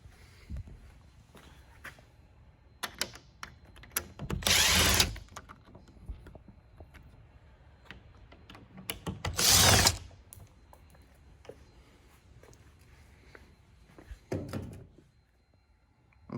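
A power driver backs screws out of an RV keypad door lock in three separate short, loud whirring bursts, with quiet handling and tool clatter in between.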